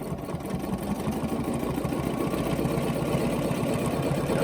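A sewing machine runs steadily as a quilt block is stitched with a Westalee ruler, a continuous mechanical whir with rapid needle rhythm, close and even throughout.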